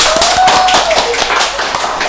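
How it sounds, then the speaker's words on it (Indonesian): A brief burst of hand claps, a handful of sharp, fairly close strikes in quick succession, with a faint tonal whistle-like sound running under the first half. "Tepuk tangan dong"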